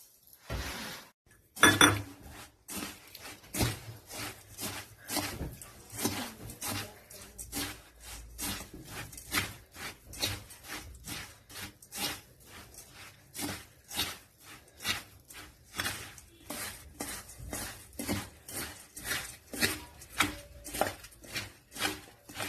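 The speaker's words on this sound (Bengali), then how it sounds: "মেয়ে এখন মুড়ি মাখছি" Puffed rice (muri) is mixed by hand with potato curry in a bowl, making a long run of quick, rhythmic crunching and light clinking against the bowl, close and fairly quiet.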